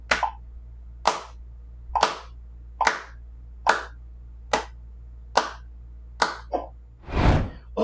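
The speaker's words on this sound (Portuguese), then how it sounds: "Se nós representarmos isso, ou melhor, cada segundo em palmas, nós teríamos algo mais ou menos assim." Single hand claps at a steady pace of about one per second, each a sharp, isolated crack in a quiet room with a low hum beneath, nine claps in all, the last one longer and broader.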